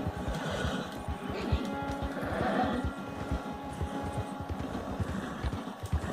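A horse neighs in the Red Dead Redemption 2 video game, a clear whinny near the middle, with hoof clip-clop and game ambience throughout.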